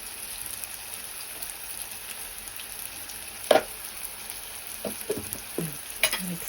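Ginger paste stirred in a frying pan, a faint steady sizzle broken by a few sharp scraping and clinking strokes of the spoon toward the end.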